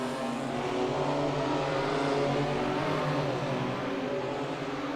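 Race cars driving hard on a circuit during a championship race, heard as a steady, continuous engine drone at moderate distance with no clear pass-by peaks.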